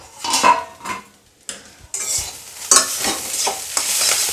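Chhechi greens cooking in a covered pan are stirred with a utensil, giving loud, close scraping and clinking bursts over a faint sizzle, with short pauses between strokes and no talking.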